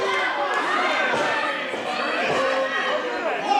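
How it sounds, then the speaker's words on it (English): Wrestling arena crowd at a New York Championship Wrestling show reacting with a steady, dense roar of mixed shouts and chatter that stays loud and continuous throughout. "the crowd not entirely happy with High Voltage Omar as well."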